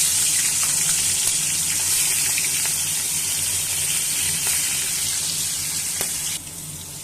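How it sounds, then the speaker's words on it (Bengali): Rohu fish frying in hot white oil in a wok, a loud, steady, dense hiss and crackle that continues throughout and drops slightly in level near the end, with no voices. "তেল গরম হয়ে গেছে, এবার মাছ দিয়ে দেব।"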